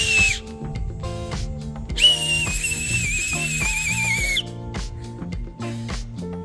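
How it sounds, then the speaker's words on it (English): A whistle blown through an acorn cap gives shrill, high-pitched sustained tones, loud and close, with one long wavering blast in the middle and shorter bursts around it, set against a background of steady tonal music. "I'm going to show you how to make a whistle out of an acorn cap."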